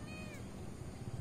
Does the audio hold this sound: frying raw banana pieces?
no